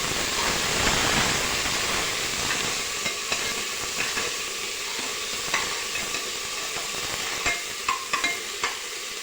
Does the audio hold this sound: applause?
no